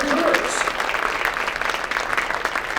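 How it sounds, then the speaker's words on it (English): An audience at a monthly business networking breakfast applauds in a dense, steady wash of clapping that carries through the whole moment, close and fairly loud, with no speech over it. "a big round of applause for Grace Christian, our most valuable recruiters."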